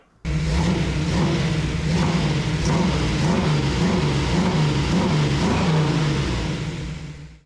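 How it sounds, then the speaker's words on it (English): A freshly rebuilt Ford 429 Thunderjet V8 fires up for its first start in a shop, catching abruptly and running loud and rough with a pulsing, uneven lope and occasional revs, close by, with no talk. "we're gonna do a first crank on this 429 Thunderjet engine I just rebuilt again"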